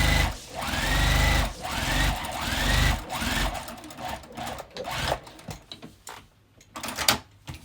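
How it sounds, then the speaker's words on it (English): A sewing machine quilts a bag along straight lines, a continuous close whir with rising tonal sweeps as the motor speeds up, then slowing into scattered stitches and clicks. "Now I'm just going to quilt the opposite way"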